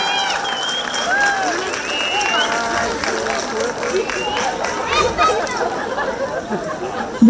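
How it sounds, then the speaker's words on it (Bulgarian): An audience at a town holiday celebration in Sandanski applauds steadily, with crowd chatter and voices mixed throughout the clapping. "аплодисменти."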